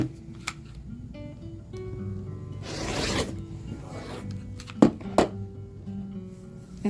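Cutting quilt fabric strips from a Benartex scrapbag, close rasping slices with a low hum underneath, a louder scraping stretch midway and a few sharp clicks toward the end, no talk.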